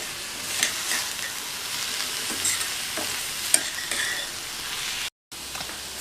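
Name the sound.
stirring radish stir-fry in a pan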